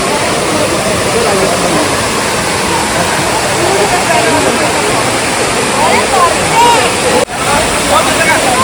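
Khadum Falls, a waterfall in Meghalaya, roars as a loud, steady rush of falling water close by, with a brief dropout near the end.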